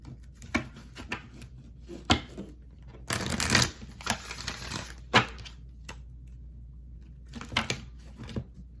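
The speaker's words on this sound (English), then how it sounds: "Quick shuffle." Quick rustling tarot card shuffles come in bursts, with a dense riffle in the middle and lighter flicks and taps scattered before and after, close and fairly quiet.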